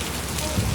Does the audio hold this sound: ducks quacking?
no